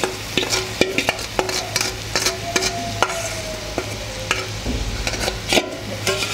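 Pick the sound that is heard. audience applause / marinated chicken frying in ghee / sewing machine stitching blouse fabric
marinated chicken frying in ghee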